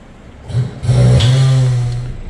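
A 2020 Ford Fusion SE Hybrid pulls away for a test drive, a low engine hum swelling from close by into a steady drone before easing off slightly, heard alone without talk.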